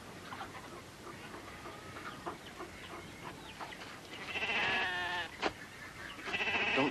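Sheep bleating outdoors, faint background rustle at first, then loud wavering bleats arrive in the second half, one long call followed by another, fairly close.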